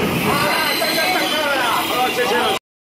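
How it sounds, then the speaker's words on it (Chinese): A passenger train bound for Yilan, Taiwan, pulls into a station with a steady loud rumble of wheels and carriages, while people talk over the noise. "呢班去宜蘭嘅車就到站啦"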